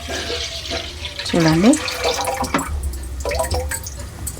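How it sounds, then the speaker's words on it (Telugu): A small splash of water is poured into a cooking pan while milk talikalu are being made, giving a short liquid trickle and splash close by, with someone talking over it. "కొంచెం అంతా వాటర్ వేస్తాను ఫస్ట్, కొంచెమే, ఎక్కువ అవసరం లేదు మనకి"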